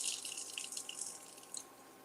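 Cool tap water runs in a thin, hissing stream into a measuring cup in a kitchen, with light splashy drips, steady and fairly quiet, with no talking.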